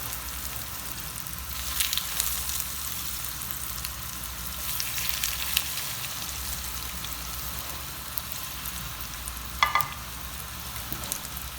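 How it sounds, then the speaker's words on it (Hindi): Vegetable kebabs fry in a pan with oil, giving a steady, close sizzle and crackle that runs throughout, with a few brief louder pops and spatters and no talking. "इसी तरह करके हम बाकी को भी फ्राई कर लेंगे।"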